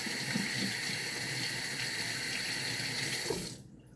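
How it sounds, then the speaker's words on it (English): Hands washed under a running kitchen tap, a steady close hiss of flowing water with faint splashing that stops abruptly near the end. "so I'm going to wash my hands."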